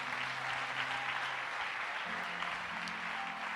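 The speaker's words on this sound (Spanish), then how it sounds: "Dele un aplauso a ese rey maravilloso." A church congregation claps steadily during a sermon, faint and even applause spread across the room, with a low sustained tone running underneath.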